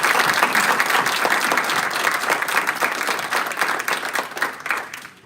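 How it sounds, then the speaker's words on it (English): Sustained audience applause at a college fraternity and sorority life hall of fame induction ceremony, a dense steady wash of many hands clapping that tapers slightly toward the end. "let us offer our inductees one final round of applause"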